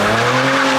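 A Nissan 370Z NISMO gives a loud, sustained tire squeal under engine drone for under a second as its rear end slides out.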